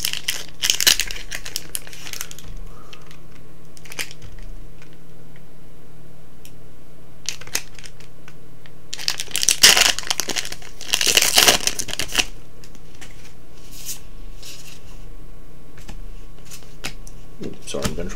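Magic trading card booster packs are torn open and their cards sorted, giving bursts of loud crinkling foil wrapper and shuffling card sounds with quieter gaps between them.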